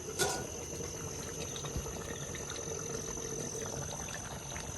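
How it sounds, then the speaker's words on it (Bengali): Duck curry bubbling in a pot on the stove, a steady close hiss and low simmering burble that carries on evenly throughout with no voices. "এই তো তরকারিতে বৈরাগ্য ফোটা এসে গেছে"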